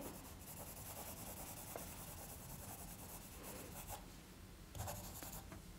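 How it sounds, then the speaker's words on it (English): A pen scratches and rubs faintly across paper while drawing a small square with details inside. The sound is a close, quiet, continuous scratching broken by short, brisk strokes. "I'm just making another little square here and drawing inside."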